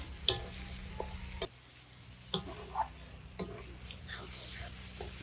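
A utensil stirs spice masala with tomato frying in a wok for village-style pork gravy, making faint scrapes and sharp taps over a low, soft sizzle.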